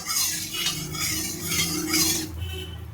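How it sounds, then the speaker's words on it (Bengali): A metal spatula scrapes and clatters around a kadai of hot oil while cooking restaurant-style dry chilli chicken. Quick, close, repeated stirring strokes continue for about three seconds with no talking. "এবার আমি খুন্তি দিয়ে ভালোভাবে নাড়িয়ে নেব কড়াইতে চারিদিকে"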